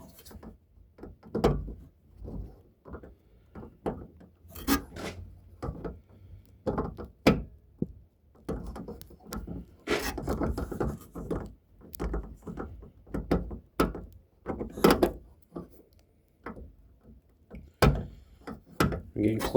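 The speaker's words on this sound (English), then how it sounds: "we're going to finish tightening this ignition switch down" Tightening an ignition switch into the dash of the General Lee car: a steady run of small clicks, taps and ratcheting knocks at close range, irregular and fairly quiet.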